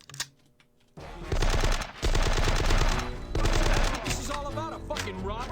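Rapid automatic gunfire from the video game Die Hard: Nakatomi Plaza, in loud sustained bursts of dense repeated shots with brief gaps, following a short quiet stretch at the start.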